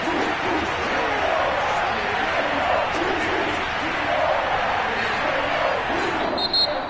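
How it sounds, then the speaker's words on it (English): A stadium crowd in a Madden football video game roars and hoots continuously, a dense, sustained wash of cheering that swells slightly in places. "this crowd's going to get even louder"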